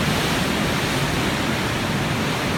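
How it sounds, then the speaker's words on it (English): Ocean surf roars steadily from a ship's deck off New Zealand on a cold morning, a dense, unbroken wash of breaking waves filling the whole moment with no voices. "And of course you can hear the ocean roaring."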